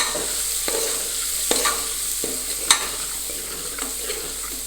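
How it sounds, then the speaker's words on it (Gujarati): Coriander and chili powder are stirred into a pot of spiced rice cooking in oil, a soft continuous sizzle with a few sharp spoon scrapes against the pan, close and without talk. "ધાણાજીનો પાવડર દાલ મરચું પાવડર તેને પણ આપણે બરાબર મિક્સ કરી લેશું"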